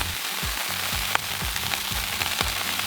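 Broccoli sizzles on a hot Blackstone griddle ahead of pork chops, a steady loud crackle with scattered pops and a few low thuds of food being moved, no voices.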